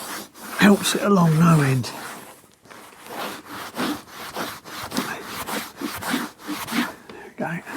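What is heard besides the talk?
scraping top layer off old nickel plating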